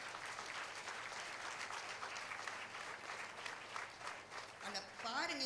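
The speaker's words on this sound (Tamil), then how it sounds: "ஒரு பலத்த கைத்தட்டல் கொடுத்து" Audience applause fills a school day function, a steady wash of clapping from a large crowd that carries on for several seconds before fading as a voice begins to speak.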